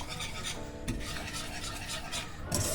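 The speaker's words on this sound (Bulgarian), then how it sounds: "Го разбъркваме хубаво." A milk and oil mixture being stirred in a pot on the stove, soft continuous scraping and swishing of a spoon against the pot at close range, fairly quiet with no speech.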